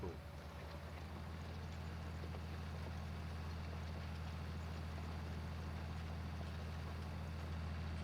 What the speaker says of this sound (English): So this little tractor, for what it is performing very, very well.